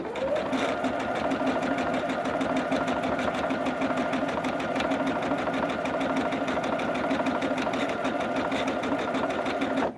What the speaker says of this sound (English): my long arm came with a bobbin winder too